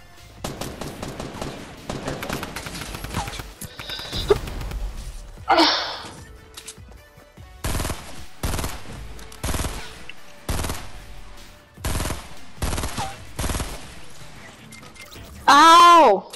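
Gunfire in a Fortnite match, rapid bursts of shots and sharp cracks alternating with loud stretches of players talking and exclaiming over the action.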